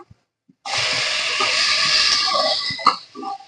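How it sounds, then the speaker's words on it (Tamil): Chopped tomatoes go into a hot pan of sautéed onions for home-style sambar, setting off a loud, steady sizzle that starts abruptly and holds evenly throughout, with a light clatter near the end and no talking. "இப்போ தக்காளியை போட்டு வதக்கிட்டு"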